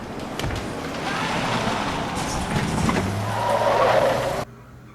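Car tires skid and squeal on gravel in a loud, sustained rush lasting about four seconds, swelling toward the end before cutting off abruptly.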